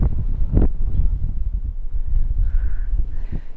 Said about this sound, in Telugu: మనం చాలా ఎత్తులో ఉన్నాం కాబట్టి గాలి ఎక్కువ ఉంది.